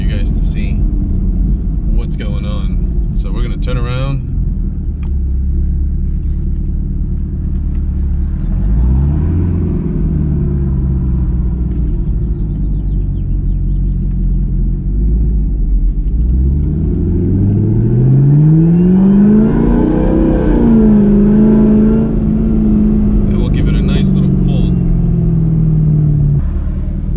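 A Camaro ZL1 with its supercharger accelerating hard, the engine droning low and steady before a rising whine climbs in pitch, loud and close, broken by brief clicks and knocks.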